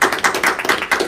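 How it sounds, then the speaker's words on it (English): A short burst of clapping at a township meeting, a handful of close, quick hand claps in loose rhythm lasting about a second. "I'd like to give a big round of applause to Supervisor Contreras"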